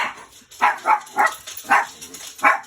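Dogs barking at home, a string of about six sharp barks in an irregular rhythm, fairly close and clear with little else around them.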